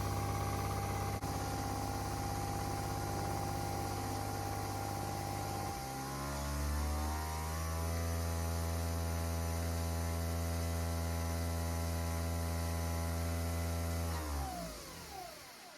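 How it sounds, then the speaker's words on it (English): A Nespresso Vertuo Evoluo coffee machine brews a mug-sized coffee, a steady motor hum that shifts into a lower spinning drone with a faint metal-tray rattle, running alone for about fourteen seconds before winding down. "It's made a mug-sized coffee using the Nespresso Vertuo machine."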